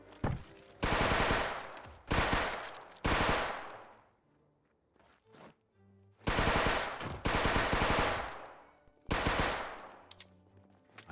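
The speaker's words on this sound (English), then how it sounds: "I needed to reload and they pushed me and I took multiple bullets" Loud, close bursts of automatic gunfire come from raiders attacking near a fire station in a survival video game. Several long volleys are broken by short pauses and a few single shots.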